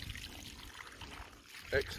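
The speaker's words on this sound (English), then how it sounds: "So that's the flow currently, because obviously what's coming in is filling up and coming out again." Excess water flows out of a filling tank in a rainy outdoor setting, a soft continuous trickle that swells into louder pouring near the end, with a voice partly over it.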